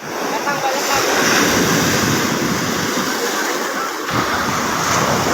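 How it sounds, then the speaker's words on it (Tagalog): Ocean waves crash and roar loudly and continuously nearby, with a rushing surge partway through and wind buffeting the microphone. "Medyo malalaki ang alon mga paps, hirap iahon eh"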